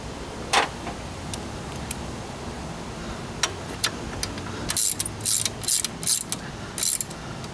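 Ratchet clicking in quick bursts as small bolts are tightened back down into aluminum on a Jeep Wrangler YJ engine after adjusting the fan belt, close and crisp, with a few isolated ticks before the run of rapid ratcheting.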